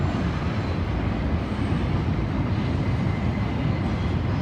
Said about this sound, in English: every time a train goes over, you hear it. Makes a lot of noise.